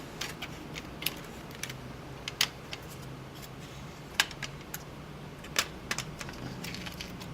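A keyboard being fitted back into a Dell Inspiron 1525 laptop during repair, with sparse faint clicks and plastic snaps spread over quiet background hiss.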